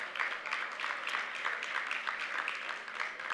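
Audience at an awards gala clapping together, a dense and steady wash of hand claps that holds at an even level throughout, with no voices on top.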